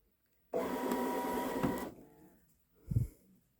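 A Babylock Solaris Vision embroidery machine runs in a steady mechanical whir for about a second and a half, then stops, followed by a short low thump; close and fairly loud with no voices.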